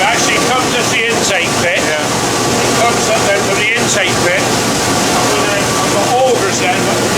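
Grain intake machinery at a farm intake pit draws harvested oilseed rape through with a loud, steady mechanical roar and rushing hiss that fills the whole clip, while someone talks over it.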